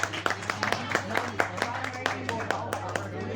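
Applause welcoming a student at an award ceremony in Nainital, Uttarakhand, rhythmic clapping from a crowd with distinct sharp claps over a steady electrical hum, with voices in the background.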